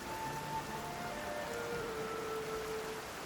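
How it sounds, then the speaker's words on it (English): Rainfall in the video game Genshin Impact, a steady soft hiss of drops with faint tonal game sounds drifting over it, continuous and fairly quiet with no speech. "It is raining."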